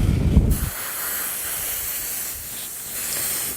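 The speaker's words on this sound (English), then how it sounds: "that's the airbrushing done" An airbrush sprays green paint onto a sculpted chameleon cake, a continuous close airy hiss that follows a brief louder rumble at the start.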